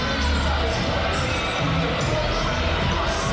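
A loud, noisy crowd in a gym cheers and shouts during a college volleyball playoff match between Augsburg and Bethel, a steady roar with no pauses.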